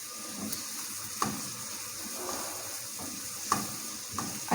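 Finely chopped onion and garlic fry in a pan with a steady quiet sizzle, punctuated by a few sharp clinks and stirring scrapes.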